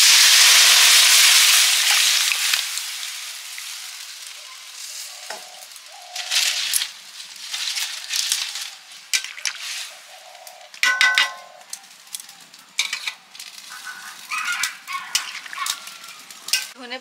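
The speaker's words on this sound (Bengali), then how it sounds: "সেদ্ধ করা ডালটা ঢেলে দেবো" Boiled dal hits a hot pan with a loud initial hiss that fades over a couple of seconds, followed by bubbling, scraping spoon strokes and occasional metallic clangs against the pot, close up with no talking.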